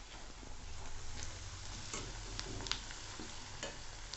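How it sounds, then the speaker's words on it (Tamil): Onions sautéing in a pan until golden for prawn thokku, a steady low sizzle with occasional stirring clicks and scrapes, close and moderately quiet with no talk. "நல்லா வெங்காயம் செவக்கணும், செவக்கிற வரைக்கும் வதக்கிக்கலாம்."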